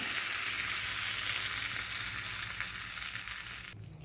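Curry leaves and dried red chillies fry in hot oil for a tempering, a loud, continuous close sizzle that fades slightly before cutting off abruptly near the end.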